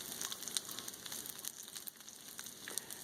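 Smash burger sliders frying on a hot Blackstone griddle, crackling and popping in a soft, continuous sizzle with scattered sharp spatters, faint and heard alone.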